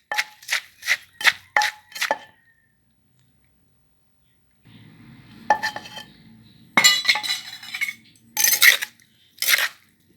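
A utensil mixes Thai mango salad with fermented fish sauce, starting with a rapid run of about seven bright clinks against a dish, then after a quiet gap a spell of scraping and clattering stirs followed by sharper knocks.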